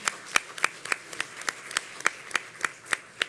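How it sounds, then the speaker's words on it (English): Clapping from a small audience at a domestic violence resource fair and symposium, sparse and uneven hand claps, roughly a dozen distinct sharp claps spread at irregular intervals, fairly close and clear with no voices over them. "Let me just have everybody clap their hands for that."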